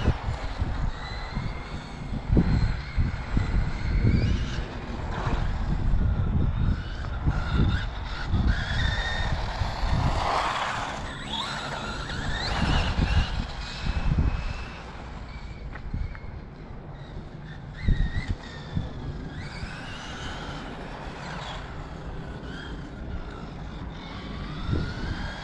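An Arrma Infraction 6S electric RC car accelerates in repeated bursts, its high-pitched motor whine rising and falling with tyre scrub against a noisy outdoor background over about twenty-five seconds.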